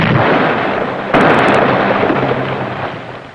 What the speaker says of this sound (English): First torpedo broached and exploded prematurely.